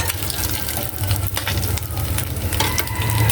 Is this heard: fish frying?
yes